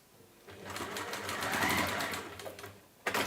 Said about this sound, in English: Anyway, we're going to sew round.